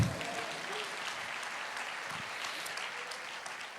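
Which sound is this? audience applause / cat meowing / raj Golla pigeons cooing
audience applause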